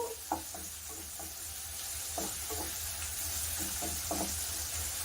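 Coriander and chopped tomato lightly frying in a pan for buttermilk rasam give a steady, close sizzle, with a few soft stirring knocks scattered through it and no talking.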